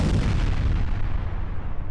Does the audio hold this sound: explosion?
yes